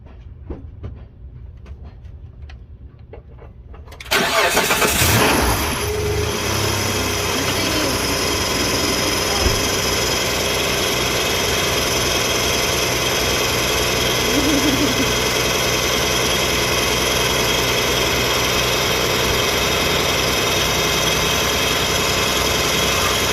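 A 2004 Mitsubishi Montero 3.8L engine cranks and fires after a timing belt job, jumping from quiet background to a loud, steady idle with a persistent rattle that continues for about twenty seconds.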